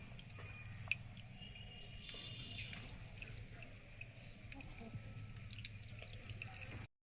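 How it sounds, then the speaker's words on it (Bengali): Water drips softly as freshly made chhena for rasgulla is gently squeezed by hand, a faint steady trickle with scattered small drops, quiet and close. "এবারে আলতো হাতে জলটা টিপে টিপে বের করে দিতে হবে।"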